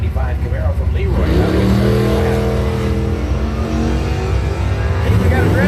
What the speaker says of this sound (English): Hey, we got a drag race going on.